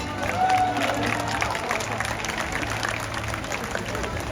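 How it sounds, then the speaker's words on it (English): An audience at a SeaWorld San Diego orca show breaks into applause, a steady wash of clapping and crowd noise, with faint cheering mixed in, spread across a large outdoor stadium. "Let's give them a round of applause."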